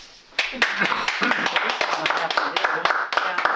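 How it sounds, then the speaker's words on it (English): A small club meeting gives its president a round of applause, a few sparse separate hand claps sounding close and irregular, with voices talking underneath. "a big applause to our president, Dan"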